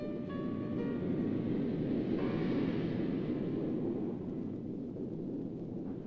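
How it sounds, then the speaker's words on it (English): A continuous deep roar from the Nagasaki nuclear bomb explosion on old archival film, broad rumbling noise sustained for several seconds with a faint tonal hum over it. "another nuclear bomb was dropped on Nagasaki"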